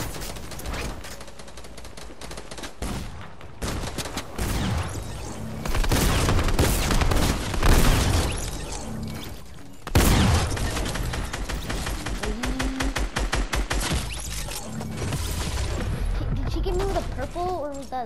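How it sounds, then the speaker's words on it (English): Rapid bursts of gunfire trade back and forth in a Fortnite match, dense stretches of shots and rattling fire that keep going throughout, with a person talking over parts of it. "Oh look, people are exchanging shots."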